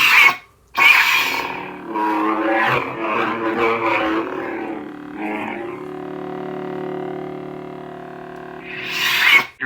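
Custom lightsaber sound font effects on a rebuilt saber: a crackling, distorted burst and clash textures followed by a steady humming drone, with a sharp electric flare at the start and another near the end.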